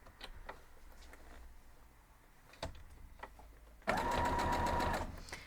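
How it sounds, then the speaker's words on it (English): A sewing machine runs a short burst of rapid, even stitching near the end while sewing a seam on a diamond star quilt block, after quiet handling clicks and taps. "We're going to sew this one down. I'm going to just start it so I'm on the right side."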